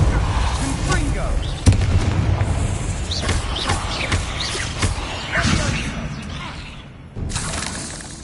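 Confringo blasting spell in Hogwarts Legacy, a sharp crackling burst followed by several smaller popping detonations and debris scatter, with chatter and game sounds mixed in.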